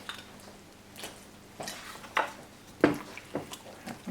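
Textured soy protein being mixed with liquid smoke and tamari in a bowl, with a utensil giving a series of light, irregular clinks and scrapes that grow sharper toward the end, close and fairly quiet.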